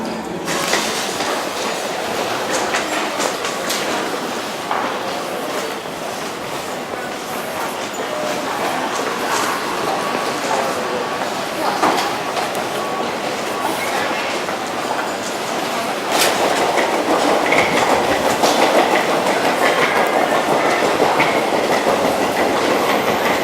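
An airport rail shuttle to Terminal 1 rolls along with steady wheel rumble, clickety-clack and faint squeals, getting louder near the end. It is heard from up close, with some faint talk underneath.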